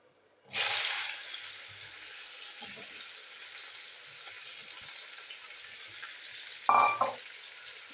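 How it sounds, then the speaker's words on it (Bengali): Bitter gourd drops into a hot pan with a sudden loud sizzle that settles into a steady frying hiss, then flares into a second brief, sharp burst of sizzling near the end. "এখানে আমি একটু উচ্ছেটা ভেজে নেবো।"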